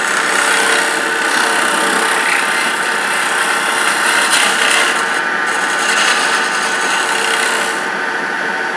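Detail carbide tool cutting spinning wood on a lathe while turning a small Christmas tree, a steady close rasping scrape that holds at even loudness throughout with no talking.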